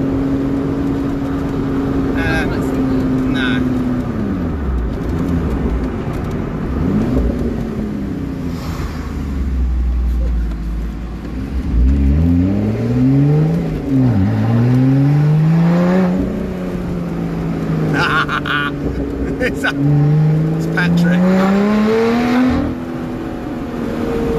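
BMW i8 car driving, with a steady engine and road drone throughout and rising and falling whirring sweeps as it accelerates and shifts, heard from inside with occasional voices.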